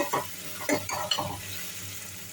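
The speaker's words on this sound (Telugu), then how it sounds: "ఫ్రెష్గా చేసుకున్న అల్లం వెల్లుల్లి పేస్ట్ వేసుకొని, అల్లం వెల్లుల్లి పచ్చి వాసన పోయేంత వరకు బాగా వేయించుకోవాలి" Freshly made ginger garlic paste fries in a pan, with a soft steady sizzle and three or four bursts of spoon stirring against the pan close by.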